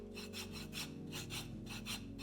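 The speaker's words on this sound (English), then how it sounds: "And you'll probably notice that my filing is much less vigorous than it normally is." A foot file rasps over hard skin on deeply cracked heels during a pedicure, a soft, close scraping in even back-and-forth strokes, about eight in a couple of seconds, gentle rather than vigorous.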